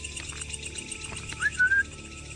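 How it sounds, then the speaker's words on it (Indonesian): A person whistles in a forest, giving a short, clear, rising tone over a steady background of insect and bird chatter. "Aku siul-siul ya, teman-teman."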